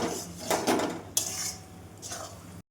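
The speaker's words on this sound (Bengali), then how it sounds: "মশলাটা এইভাবে কষা কষা করে নিতে হবে" Spice paste for a light home-style goat meat curry is stirred and fried in a pot, and a utensil scrapes and clinks against the metal in a few close, loud strokes.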